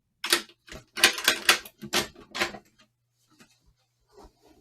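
A door being unlocked and opened in an old radio drama: a loud run of sharp wooden and metallic clacks and rattles for about two and a half seconds, then faint scattered clicks.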